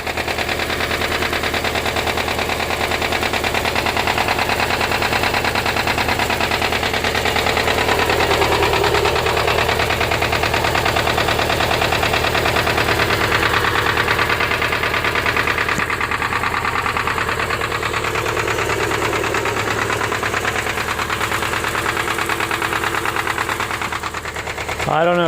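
A 2009 Subaru Forester idles with a knocking engine, a steady dense mechanical clatter running continuously and close for the whole stretch, with a short burst of noise at the very end.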